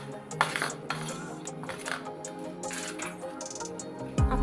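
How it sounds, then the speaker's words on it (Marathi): A spoon clinks and scrapes against a bowl while hot oil is mixed into bakarwadi flour, light irregular taps and stirring sounds, close and fairly quiet. "तेल गरम असल्यामुळं मी चमच्याने असं छान असे हे मिक्स करून घेत आहे"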